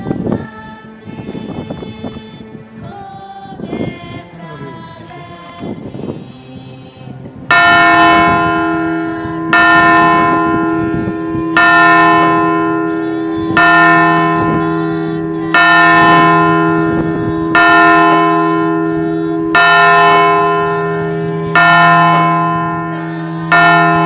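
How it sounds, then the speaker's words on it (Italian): A large church bell in Puglia, Italy, rings slowly and repeatedly, each deep resonant strike fading before the next, after a jumble of softer overlapping chimes at the start. "la prima campana."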